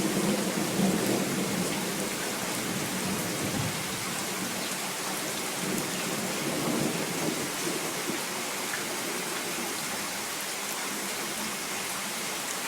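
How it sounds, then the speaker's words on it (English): Steady heavy rain in a thunderstorm at a horse barn, with low rolling thunder rumbling underneath; a dense, continuous wash of sound with no talk. "You'll notice those flashing has that rolling thunder crackling over a long distance."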